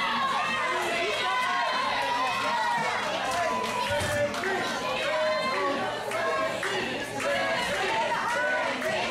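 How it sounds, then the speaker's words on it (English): A wrestling crowd at an SICW match roars and chatters steadily under close commentary, a dense wash of shouting voices with no pauses. "The crowd trying to get Ricky to come back up"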